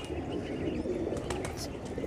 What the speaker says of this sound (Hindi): देवबंदी बाजरे कबूतर हैं माशाल्लाह, आप देख सकते हैं।